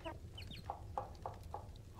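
A bird in Animal Crossing: New Horizons clucks like a chicken, a faint string of short, evenly spaced clucks, about five in two seconds, over quiet background music.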